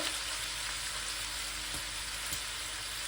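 Prawns and bitter gourd frying together in a pan, giving a steady, loud, close sizzle that stays constant throughout, with no talking over it.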